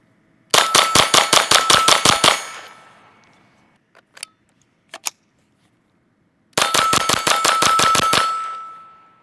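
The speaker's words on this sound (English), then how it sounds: "we're going to shoot some of this Aguila 22 Super Extra 1255 FPS" Derya Arms TM22 shotgun firing Aguila 22 Super Extra rounds: two rapid strings of about ten loud, sharp reports each, separated by a pause holding a few faint metallic clicks, outdoors with no talking.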